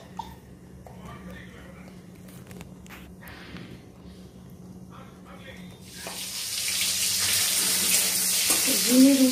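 A young child plays with water at a running tap on a cold day; quiet movement and a few breaths come first, then the water gushes and splashes steadily, growing louder toward the end.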